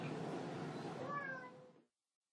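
A stressed cat gives a single drawn-out meow lasting nearly two seconds, close and fairly clear, rising into a wavering whine before cutting off into silence.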